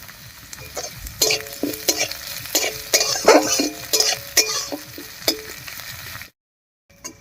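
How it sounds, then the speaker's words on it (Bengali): Chopped garlic, onion and green chili fry in a pan for a potato mash, with a soft sizzle under repeated quick, close spoon scrapes and taps, then a brief silence near the end. "এবার এর মধ্যে দেব রসুন কুচি, একটু নাড়িয়ে নিয়েছি।"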